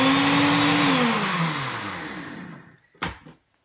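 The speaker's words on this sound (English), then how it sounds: "Then I blend it up with our Ninja blender." A Ninja blender whirs loudly blending flax, its motor pitch dropping as it winds down over a few seconds, followed by a short clunk.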